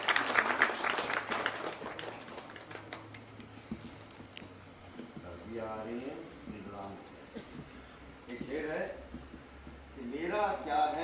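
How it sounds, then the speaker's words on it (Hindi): Audience applause at a theater festival, a broad clapping wash loudest at the start and fading, with a voice speaking over it afterward. "जोरदार तालियों से स्वागत कीजिए।"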